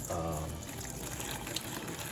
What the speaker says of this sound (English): I kind of pour out most of the water first, and then as I slowly get less and less water going, I start pouring in the noodles